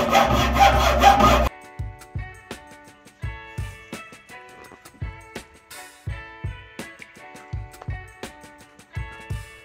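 A cut UAV part being sanded by hand in close, rhythmic back-and-forth scraping strokes, steady and repeated after a brief louder noisy start.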